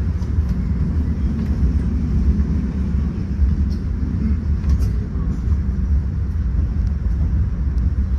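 A Sri Lankan passenger train, first-class AC service number 6057 from Galle to Colombo Fort, rumbles steadily from inside the carriage, a loud continuous low roar with no break.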